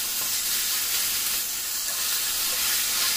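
Boneless chicken thighs fry in a little oil in a Blue Diamond frypan, giving a loud, continuous, even sizzle that holds steady throughout with no voices.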